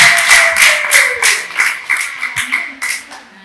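A church congregation clapping hands in a quick, uneven rhythm of sharp claps, close and fairly loud, with a voice sounding briefly underneath.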